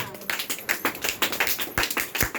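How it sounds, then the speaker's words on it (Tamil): A church congregation claps along during a Tamil sermon, a dense, uneven patter of many hands striking together in quick overlapping bursts that carry on steadily throughout. "ஒரு கைத்தட்டு கொடுங்க பார்க்கலாம்"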